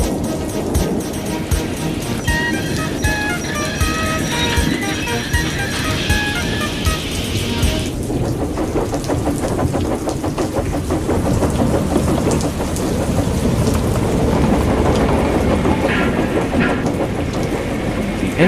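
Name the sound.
rain falling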